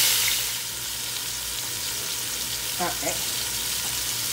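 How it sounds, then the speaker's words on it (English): Chicken pieces for Jamaican chicken soup fry in a pot with a steady, soft sizzle, a couple of brief stirring clatters midway, and one short spoken word. "It's been cooking for a few minutes because we just want to make sure we get a nice color"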